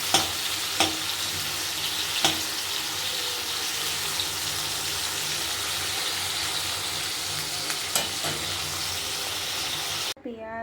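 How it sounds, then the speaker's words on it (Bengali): Food frying lightly in hot oil, a soft continuous sizzle with a few sharp clicks and taps from stirring, close by with no talking. "এবার এটাকে হালকা ফ্রাই করে নেব আমি।"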